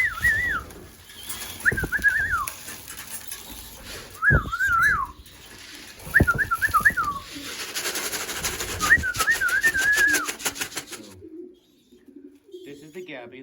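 Racing pigeons coo in a loft, giving several separate warbling bursts spread across the stretch at close range, with shuffling and handling noises in between and a quieter ending.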